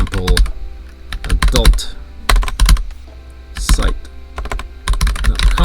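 Typing on a computer keyboard in short rapid bursts with brief gaps, close and loud over a low background hum.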